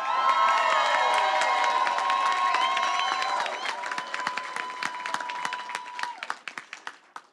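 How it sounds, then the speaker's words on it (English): Supporters at an Iowa 3rd Congressional District campaign event for Cindy Axne break into loud applause with cheers and whistles, the roar thinning into scattered, fading claps near the end. "give yourself a big round of applause"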